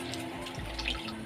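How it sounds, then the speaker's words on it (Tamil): Soaked rice is rinsed in water for a raw jackfruit biryani, giving a brief close splash and swish of running water in a sink, with no voices. "இந்த ஸ்டேஜில் நம்ம அரிசியை கழுவி போட்டுப்போம்"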